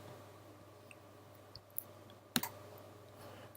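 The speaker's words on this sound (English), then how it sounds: "So right click it and click reorder" Computer mouse clicking at a laser cutter workstation, a few faint sharp clicks scattered over quiet room tone, with one louder double click near the end.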